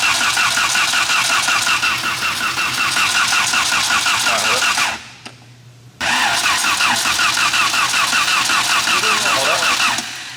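A VW Corrado's starter cranks the engine in a steady fast rhythmic whir without catching, breaks off for about a second midway, then resumes cranking loud and close.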